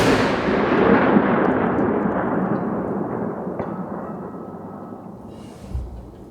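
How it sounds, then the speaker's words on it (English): One loud muzzle loader rifle shot fired at a 1000-yard target cracks at the start and rolls away in a long echoing rumble that fades over several seconds. "here goes shot number 5"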